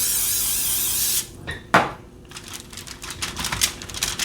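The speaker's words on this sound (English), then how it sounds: "I'm going to spray that with some cooking spray." A close, steady hiss of cooking spray onto chopped potatoes lasting about a second, followed by a sharp clack and scattered light kitchen clatter.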